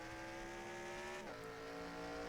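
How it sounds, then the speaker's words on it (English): Damaged race car engine in a racing video game based on the Coca-Cola 600, a steady, strained harmonic drone that briefly dips in pitch midway and then carries on at constant loudness. "that engine not sounding nearly as good as it was before"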